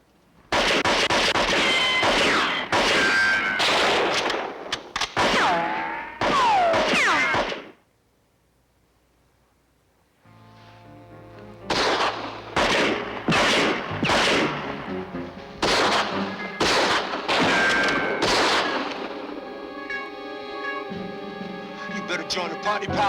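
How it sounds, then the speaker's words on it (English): Gunfire in a SWAT police drama firefight during a hostage rescue, loud bursts of rapid shots in two clusters separated by a brief lull, with shouting mixed in. "Luca and McCabe, lay in some fire and cover us down"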